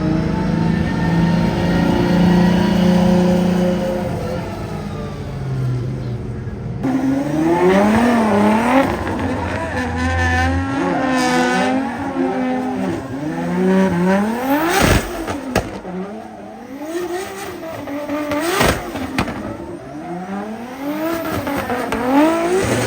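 Drift cars warming up at a Drift Masters event, engines revving hard with rising and falling pitch sweeps, close and loud, tire squeal and scraping mixed in, steady and continuous without talk.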